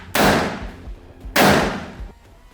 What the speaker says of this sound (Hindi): फायरिंग कर रही है